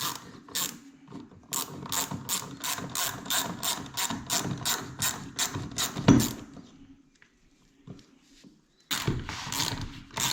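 A socket wrench ratchets in quick bursts of sharp clicking while tightening bolts on plumbing fittings, close and loud, pausing briefly before another clicking run resumes.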